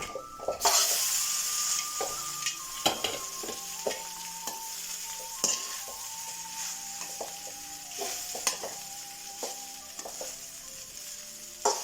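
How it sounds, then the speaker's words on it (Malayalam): Rice tipped into a pan of crispy fried onions and stirred, with a steady sizzle of hot oil broken by repeated sharp spoon scrapes and clinks against the pan, close and fairly loud. "അതിലേക്ക് നമുക്ക് ഈ ചോറ് ഇട്ട് കൊടുക്കാം"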